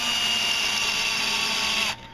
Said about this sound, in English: Second hole I'm going to drill up in one of the corners,